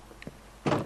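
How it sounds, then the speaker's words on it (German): A wooden door closes in the Minecraft video game on PS4, a single short thunk near the end after a few faint clicks, alone with no talk. "Tür zu."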